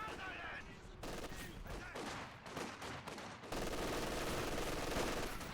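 Machine gun fire in a Company of Heroes 2 match between Soviet and German forces, rapid dense bursts with a fusillade texture that continues steadily, with faint commentary beneath.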